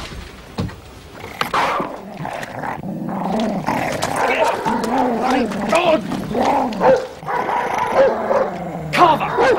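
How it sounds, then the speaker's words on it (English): A dog growling and barking close up during a tense scene in a police drama, with snarls over rising and falling shouting voices throughout. "Get this dog off me!"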